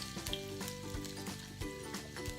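Masala spices fry gently in oil over low heat for a fried arvi dish, a soft, quiet sizzle broken by regular stirring scrapes and light clinks, with no talking.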